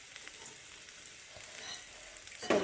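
Sundakkai and anchovies frying in a pan, a low steady sizzle with small stirring scrapes, a louder scrape near the end, quiet and close.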